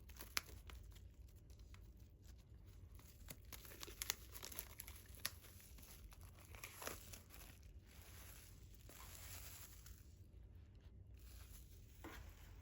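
Soft crinkling and faint scratching of plastic wrap being cut open on a music album, a steady quiet rustle with scattered small crackles, close and alone.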